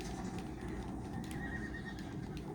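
A horse in Red Dead Redemption whinnies over a steady low background rumble, with hoof clops mixed in.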